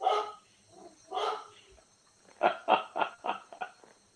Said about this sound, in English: Letting the dog stop barking.